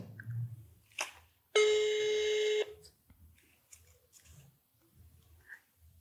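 A single phone ringback tone sounds for about a second during an unanswered call, loud and steady with harmonic buzz, between stretches of quiet room noise and faint voices.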